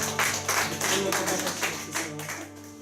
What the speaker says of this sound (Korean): 박수 올려드립시다